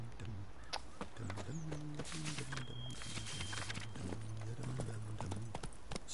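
Roach, the horse in The Witcher 3, moves along with steady, rhythmic clip-clopping hoofbeats close up, set against a constant bed of in-game ambience and a brief high tone.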